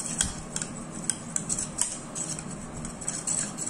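An egg hair mask mixture is whisked in a bowl, giving soft, rapid clinks and light scraping that stay fairly quiet and steady, with no talking.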